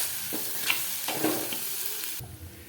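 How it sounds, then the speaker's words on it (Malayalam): Curry leaves, ginger, garlic and green chili fry in a pan while being stirred, producing a close, steady sizzle with a few scraping stirs, then a sudden brighter hiss near the end. "എല്ലാതും നമുക്ക് നന്നായി ഇളക്കി യോജിപ്പിക്കാം"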